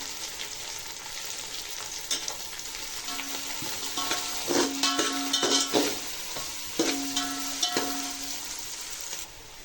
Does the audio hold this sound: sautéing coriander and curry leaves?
yes